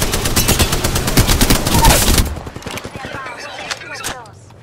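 Video game shootout with rapid, loud bursts of automatic gunfire for about two seconds, then quieter scattered shots and combat chatter as a voice speaks.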